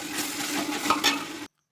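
Tomatoes sizzle and crackle steadily in a hot pan while a chicken biryani is cooked, with a few stirring scrapes near the end before the sound cuts off abruptly.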